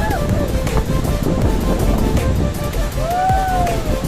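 Strong wind roars steadily near a waterfall in Okhaldhunga, Nepal, a loud, continuous broadband rush buffeting the microphone throughout.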